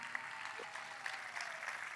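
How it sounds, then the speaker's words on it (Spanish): Faint, distant applause from an audience for a folk music group, the Asociación Folclórica El Salitre del Faicán at a festival in Gran Canaria, a steady even patter of clapping. "Voy a pedir un fortísimo aplauso para la Asociación Folclórica El Salitre del Faicán"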